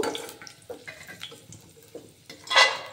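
A metal spoon scraping and clinking in a steel wok while fried nuts are scooped out of hot oil, a few soft taps and scrapes, then a brief louder sizzling splash near the end.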